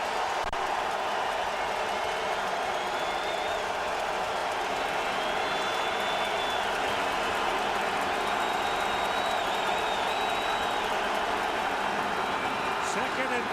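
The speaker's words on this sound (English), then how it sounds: "because this crowd of the Winnipeg Blue Bombers" A loud, steady stadium crowd roar of Winnipeg Blue Bombers fans at a 2015 CFL football game against the BC Lions, a dense continuous wash of noise throughout with a commentator talking over it.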